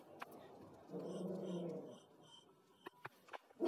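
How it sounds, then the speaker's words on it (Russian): A dog outside on the street growls and whines faintly in the distance, a low rumbling stretch followed by a few sharp yips, with no talking. "Просто там собака на улице."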